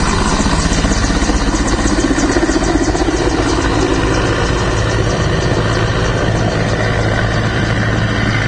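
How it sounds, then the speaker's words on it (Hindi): Indian Air Force helicopter carrying the Prime Minister landing at a helipad in Ujjain, a loud, steady rotor chop and turbine whine throbbing continuously close by with no voices over it. "इनका हेलीकॉप्टर अब ये सीधा लैंड करेगा"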